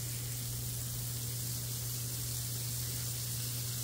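Bacon frying on a Blackstone griddle, a steady close hiss and crackle of fat that runs evenly without a break, under a low hum and with no talking.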